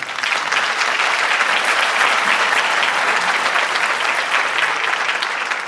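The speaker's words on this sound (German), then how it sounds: "Einen herzlichen Applaus für Claudio." Loud, dense applause from a congress audience welcoming a guest on stage, sustained evenly for several seconds with a faint crowd murmur, with no talking.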